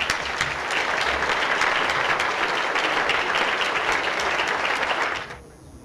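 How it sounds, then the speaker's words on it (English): Sustained audience applause fills a roast dinner hall, a dense steady clatter of many hands that holds strong for about five seconds before cutting away to near quiet. "Ladies and gentlemen, a round of applause for Bridget Parker."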